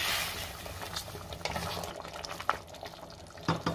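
A spoon scrapes and stirs through a thick, bubbling chicken curry in a pressure cooker pot, with soft wet churning and a few clinks against the metal.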